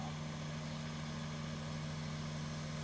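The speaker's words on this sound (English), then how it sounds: "I didn't realize there would be quite so much engine noise going on." Engine noise near a harbor, a steady low droning rumble with a constant hum, moderately faint and unbroken, with no voices.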